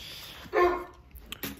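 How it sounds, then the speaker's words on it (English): A single dog bark sounds at moderate distance, followed by a couple of faint short yips in a quiet room. "barking up a storm downstairs"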